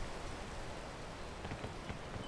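Video game rain and wind make a dense, steady hiss of falling rain with soft patters, continuous and moderately quiet throughout, with no talk.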